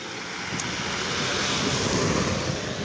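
Cool spring wind blows outdoors beside a birch grove, a steady broad rush buffeting the microphone throughout with no talking.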